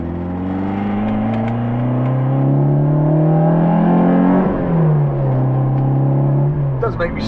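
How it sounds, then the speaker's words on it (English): A loud Citroen AX GT engine revs up and holds, its exhaust note, through a catalytic converter and three silencers, rising then dipping, droning noisily throughout. "it's got a cat on it and three silencers now and it's still noisy"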